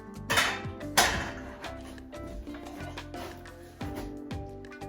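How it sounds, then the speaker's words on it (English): A metal spoon scrapes and clinks against a casserole dish while shrimp is spooned over Southern-style grits, with two sharper knocks near the start and softer scrapes after, close by and without talk. "now we're going to spoon the shrimp on top."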